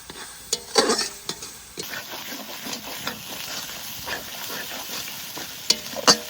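Spice paste of turmeric, Kashmiri chili powder and a pinch of sugar fries in oil as it is stirred, with a steady close sizzle broken by scraping stir strokes and a few sharper clinks of the spoon against the pan, no talking.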